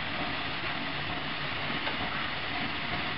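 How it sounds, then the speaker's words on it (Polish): A train passes in the Leszno–Wolsztyn area of Poland as a steady, loud broadband rumble and rushing roar that holds evenly throughout, with no voices over it. "bo pociąg jedzie"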